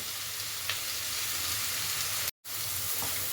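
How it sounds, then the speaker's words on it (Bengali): Chopped onions fry in an oil-filled pan until reddish-brown for a chicken and potato curry, giving a steady, loud, even sizzle with a few soft stirring scrapes. "পেঁয়াজটাকে এইভাবে একটু লাল লাল করে ভেজে নেব"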